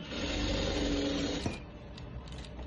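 A sewing machine stitching a design onto fabric, a steady fast mechanical whirring hum that stops abruptly partway, followed by soft handling clicks and faint rustle.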